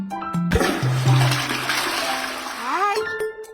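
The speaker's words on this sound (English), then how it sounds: "Remember to flush the toilet." A cartoon toilet flushes with a loud, close rush of water that swirls for a few seconds, then gurgles down and fades as the tank refills, with short cartoon tones at the start and end.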